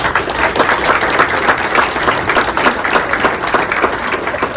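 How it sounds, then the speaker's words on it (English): Loud, dense applause from a large audience at a state of the city address greets the afternoon's presenting sponsor, a steady wash of clapping that holds evenly throughout with no talking over it. "Let's give them a huge round of applause."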